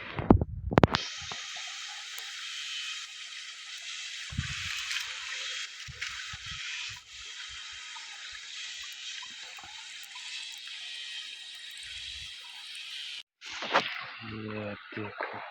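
A mountain waterfall roars with a continuous, broad hiss of flowing water, close and steady for most of the stretch, with brief knocks and a voice near the end.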